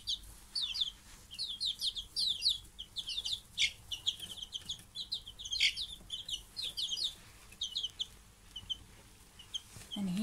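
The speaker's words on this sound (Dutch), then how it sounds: "Deze kuikens zijn sabelpootkuikens." Sabelpoot chicks at a children's farm, a cluster of high, close peeping calls in quick bursts that come and go continuously with short pauses.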